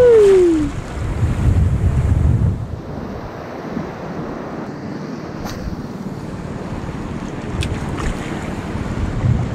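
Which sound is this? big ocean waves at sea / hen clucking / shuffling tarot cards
big ocean waves at sea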